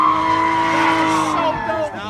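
A purple Porsche GT3 RS driven hard on a race track screeches with a loud, sustained tire squeal and engine whine, its pitch sliding downward before fading out after about two seconds.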